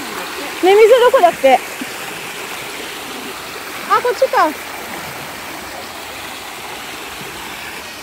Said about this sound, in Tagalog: Sarap pakinggan ng tubig.